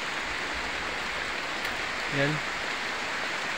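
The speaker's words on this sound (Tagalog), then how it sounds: "hindi namin masyadong ma-videoan kasi ang lakas ng ulan" Heavy rain falls as a steady, dense hiss of drops, moderately loud and constant, with a brief spoken word heard over it.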